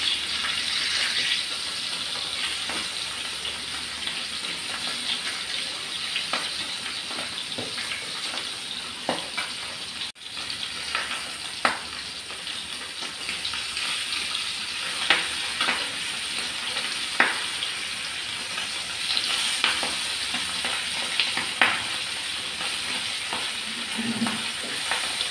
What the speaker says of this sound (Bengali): মাছগুলোকে একটু ভেজে নেব।